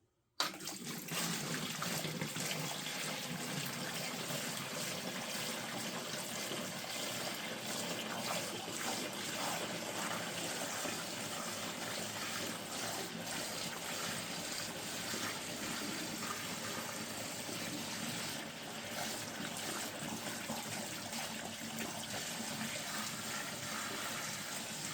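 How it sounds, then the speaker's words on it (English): A steady, continuous stream of homemade wine pours and splashes from a bucket into a carboy, unbroken for the whole stretch with no voices. "I'm going to attempt to pour it without"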